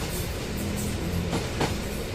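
A train pulls into a railway station with a steady rumbling roar of wheels and carriages close by, with a couple of brief higher whistling tones rising through the noise.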